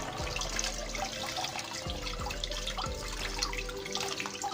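Running water streams steadily over a fresh octopus of about 1 to 1.5 kilos as it is washed in a kitchen sink, a continuous close faucet splash with no voices.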